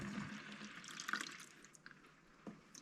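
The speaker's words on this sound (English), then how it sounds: "So I'll pour this back in here." Rust treatment liquid is poured back into a motorcycle fuel tank, giving faint sloshing and trickling with a few small drips and splashes, heard alone and quietly.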